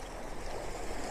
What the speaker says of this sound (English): just picking up a bit of movement as the waves lapping around this pool.